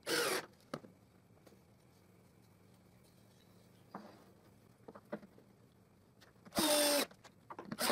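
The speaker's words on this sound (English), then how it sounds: "So I screw the angles to the plywood strips." Screws being driven to fasten metal angles to plywood strips for a chainsaw jig, with a few short, separate bursts of a powered driver at the start, middle and a louder one near the end, between quiet handling noises.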